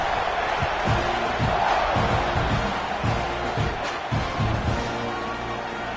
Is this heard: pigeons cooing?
no